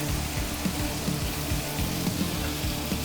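Food cooking in butter in a pan until crispy, a steady close sizzle with soft popping and a faint low hum underneath, continuous with no talk.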